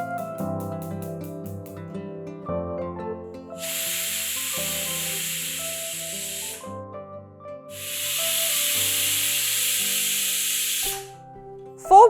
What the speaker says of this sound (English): Four whistles are up, turn off the flame and let the pressure cooker cool down completely